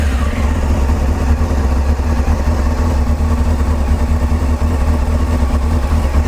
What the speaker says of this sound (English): So the bike is already warmed up, but I'll need to start it up now